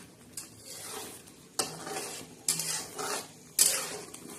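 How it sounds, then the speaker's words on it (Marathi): A masala is stirred and sautéed in a pan, with a soft sizzle and a few distinct scraping strokes of a spoon against the metal, quiet and close. "अजून मसाला छान असा परतून घ्यायचा आणि छान असा शिजू द्यायचा."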